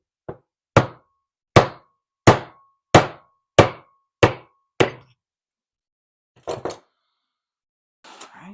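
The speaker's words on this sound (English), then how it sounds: "Screwdriver and a hammer." A hammer drives a screwdriver into wood with eight sharp, evenly spaced strikes close by, followed after a pause by a couple of softer, scuffing knocks.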